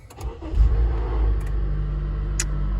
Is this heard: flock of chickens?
no